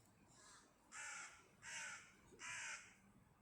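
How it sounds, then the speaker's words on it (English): Crows cawing in the background, three harsh drawn-out caws in a row, faint and distant with quiet pauses between them. "with all these crows in the background"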